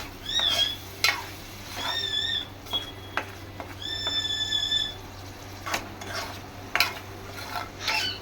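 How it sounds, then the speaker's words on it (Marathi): Ground roasted masala fried and stirred in oil in a pan for a chicken liver dish, with a steady low sizzle and repeated scraping strokes of a spoon, plus a few sharp metallic clinks; no talking. "आपला वाटलेला भुना मसाला चांगला भाजून घ्यायचा, ते अगदी तेल सुटेपर्यंत"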